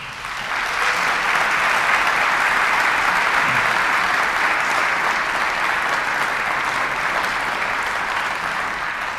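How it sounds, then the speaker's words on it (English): An audience at a high school honors concert claps in sustained, dense applause that starts abruptly and holds steady for about nine seconds, filling the hall with a broad wash of hands. "So please give them another round of applause."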